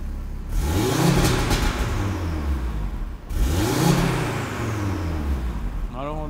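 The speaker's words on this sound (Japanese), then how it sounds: "でちょっとまあ軽く吹かしてもらっていいですか" An Audi RS3 Sportback engine revs twice in sport mode while parked, each blip rising sharply, then falling away over a short idle between them; loud and close, with brief talk near the end.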